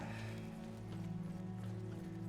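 Horse hooves clip-clop at a steady pace in the video game Oblivion, faint and partly blended under a sustained droning music track.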